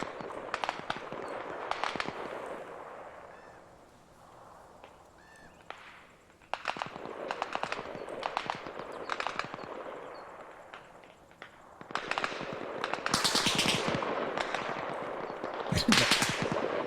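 Gunfire in Arma Reforger cracks out in several rapid bursts of shots at moderate distance, separated by quieter stretches, some volleys running longer and louder toward the end.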